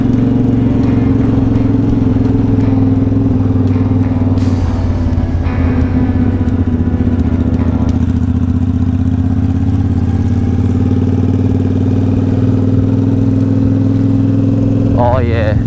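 A cruiser motorcycle rides through traffic, its engine holding a steady, loud low rumble for the whole stretch with small shifts in pitch, and a brief brighter sound near the end.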